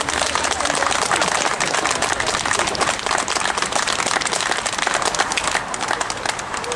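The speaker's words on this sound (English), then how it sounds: "Give a big round of applause, people." An audience applauds at a 2012 demonstration in Virginia, a dense, steady wash of clapping that holds at full strength for about seven seconds without letting up.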